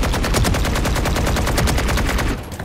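Vandal rifle fire in a video game, a loud, continuous rapid burst of evenly spaced shots lasting over two seconds before cutting off.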